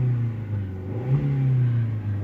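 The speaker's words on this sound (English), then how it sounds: "when I rev it" A Vauxhall Corsa engine revs in a garage, a steady close idle rising into a brief rev and settling back, heard alone without talk.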